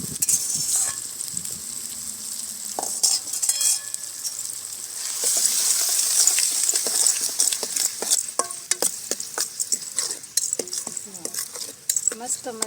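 Eggplant sizzles as it is stirred into a hot oil tempering for bharta. A steady close frying hiss runs under repeated clicks and scrapes of a spoon against the pan.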